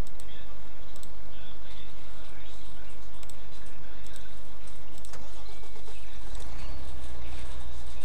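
A truck engine in a farming video game drones loudly and steadily at speed, with faint clicks and bird-like chirps in the background.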